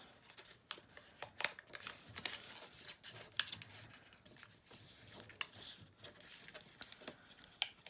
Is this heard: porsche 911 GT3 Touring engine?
no